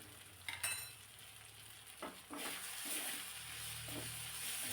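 Ground cumin, coriander powder and other dry spices sizzle in hot oil for dhaba-style bhaji, a steady frying hiss with a few clinks and scrapes of stirring, close and continuous.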